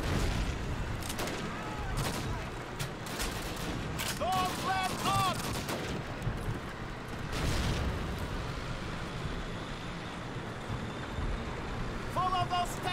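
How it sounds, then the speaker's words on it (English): Dense gunfire and machine gun bursts crackle through a World War II battle in Call of Duty: United Offensive, with distant booms and voices shouting over the firing. "I'm pretty sure they're pinning us down with all those MGs."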